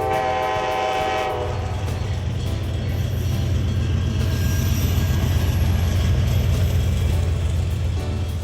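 A model railroad Amtrak train, the Empire Builder, sounds a short horn blast, then rolls on with a steady, close rumble and rhythmic clatter.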